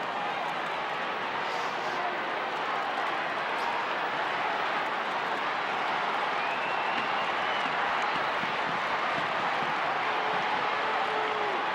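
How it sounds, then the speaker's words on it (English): A roaring stadium crowd at the NAB Cup Grand Final football match between Adelaide and Geelong, a dense, continuous wall of cheering and voices from about 30,000 fans, loud and unbroken throughout. "Terrific crowd tonight, and they are in full voice now."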